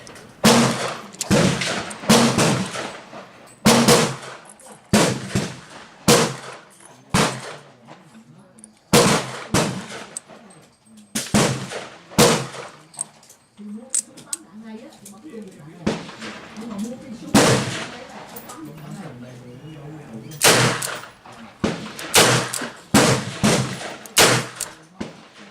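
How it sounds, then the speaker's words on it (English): Revolver gunshots from an R.I.A. M-206 firing 200-grain rounds at a 25-yard outdoor range, a series of loud close sharp bangs in uneven clusters, with talking in between shots. "Let's head down to the range and give these a test run at 25 yards."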